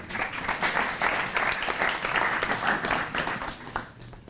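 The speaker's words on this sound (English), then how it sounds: "Then, the round of applause for Michael as well." Audience applause after an oncology company CEO's talk, a dense, even patter of many hands clapping for about four seconds before tapering off at the end.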